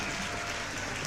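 Applause and cheering from a comedy show audience fill the moment as a dense, steady wash of clapping.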